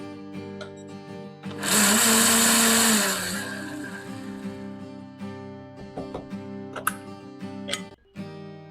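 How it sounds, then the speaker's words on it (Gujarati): An electric mixer grinder whirs loudly for about two seconds while grinding spice masala on coarse mode, then cuts off, leaving a low background hum with scattered light clatter. "અત્યારે હું કોર્સ મોડ ઉપર ગ્રાઇન્ડ કરું છું જેથી અધકચરું ટેક્સચર મળે."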